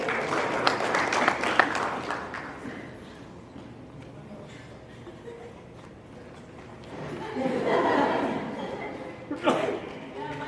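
Audience applause fills a school hall at a high school senior night, honoring students who donated blood; a steady crowd clapping rises again near the end, with voices murmuring underneath.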